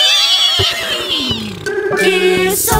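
A voice imitates a horse neigh, a loud, wavering whinny with falling pitch, sung as part of a children's animal-sounds song with music behind it.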